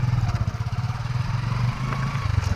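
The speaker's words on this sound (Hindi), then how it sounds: "अब हम यहाँ से मोटरसाइकिल में बैठते हैं और मोटरसाइकिल से हम आपको हाईवे के दर्शन कराते हैं" A motorcycle engine runs close by with a steady rapid throbbing putter and a slight dip partway through, while riding toward a highway past open land in Madhya Pradesh.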